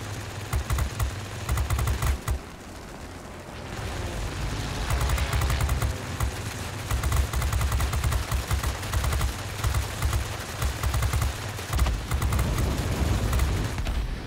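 Rear-gunner machine-gun fire in the World of Warplanes game: dense, rapid bursts of automatic gunfire with engine drone, continuous and loud throughout, no talking.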